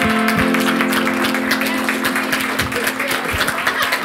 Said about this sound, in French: Il m'applaudit, il m'applaudit.